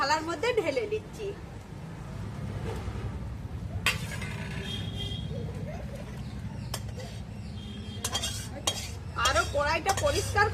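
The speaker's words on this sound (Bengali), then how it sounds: "এরপর এটা থালার মধ্যে ঢেলে দিচ্ছি।" Rohu fish kalia is poured out of a metal kadai onto a plate. A spoon scrapes and clinks sharply against the pan over a low background hum, and a voice speaks at times.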